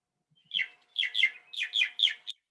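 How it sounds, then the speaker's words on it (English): A mockingbird in California sings a run of bright, varied whistled phrases, about seven quick chirpy notes in clusters, clear and close against an otherwise quiet background. "We do have mockingbirds here in California and in this county, and here's what they sound like."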